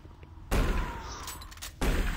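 Doom 3 shotgun firing in a first-person game, two loud booming blasts about a second apart, each with a sharp broadband crack and a short rumbling tail, heard alone without talk.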